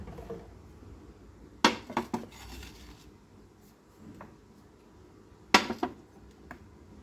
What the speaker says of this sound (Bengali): এক এক করে বয়ামগুলো তুলে দিই।